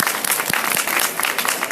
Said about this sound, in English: Round of applause, everyone, for Okudaira.